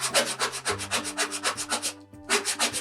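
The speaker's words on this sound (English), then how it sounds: "Take our scraper again and really press this in" A scraper is pressed hard and rubbed into felt fabric on a birthday banner, making loud, close, rhythmic scraping strokes about four per second, with a brief pause near the end before the strokes resume.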